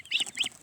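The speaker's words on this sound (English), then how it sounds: "I got geese, African geese, and silver apple-yard ducks" African geese and Silver Appleyard ducks calling on a farm, two bright honking calls in quick succession, close and fairly loud with no talk.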